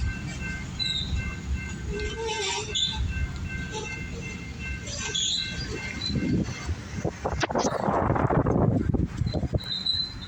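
A CSX freight train led by a long-hood locomotive rumbles steadily nearby with metallic wheel squeals and clanks, swelling louder toward the end as cars roll past.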